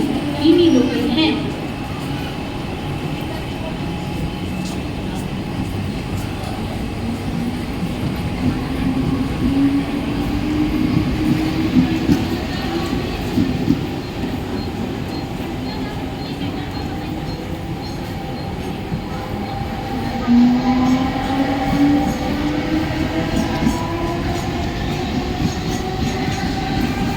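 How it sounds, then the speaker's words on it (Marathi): A Mumbai local train bound for Kalyan pulls into platform 1 of a railway station, its loud rumble, wheel clatter and rising squeal steady throughout, while station announcements echo over it. "प्लॅटफॉर्म क्रमांक 1 पर आई हुई लोकल 7:24 कल्याण जाने वाली ही लोकल है"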